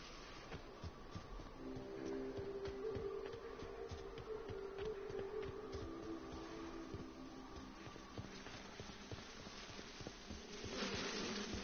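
A swarm of bees in a video game gives off a faint, steady insect drone with wavering tonal hum, mixed with scattered clicks and rumble, continuing without pause throughout.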